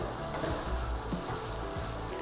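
Chopped okra frying with onions in a pan for a tangy okra stew, a soft steady sizzle with faint stirring scrapes, close and quiet, no talking.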